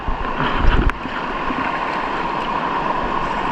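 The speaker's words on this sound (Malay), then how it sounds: "cuaca berangin dan ombaknya pun besar kali hari ini" Strong wind and choppy sea waves around a small fishing boat out on the water, a steady broadband rush with a louder gusty buffet in the first second, heard alone without talk.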